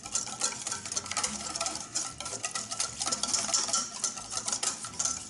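A thick, sweet and spicy dressing being whisked in a bowl gives a steady, fast patter of close scraping and tapping strokes, moderately quiet and continuous without talk.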